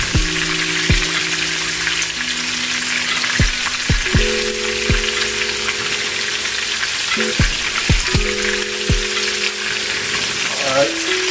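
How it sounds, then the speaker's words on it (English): Oxtails seasoned with garlic powder and pepper brown in a hot pan with a steady, close frying sizzle, punctuated by several sharp clinks and taps of a utensil against the pan. "I'm going to let that continue to brown"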